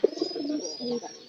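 A thin, underfed pet pigeon kept at home gives a low, throaty coo lasting about a second, with a soft burst at the start. It is close and fairly clear, with no talk over it.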